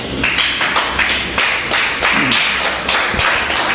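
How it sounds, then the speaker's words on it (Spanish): A crowd applauding, dense steady clapping that continues without pause, fairly loud and close. "Denle un aplauso al Señor entonces, que acabamos."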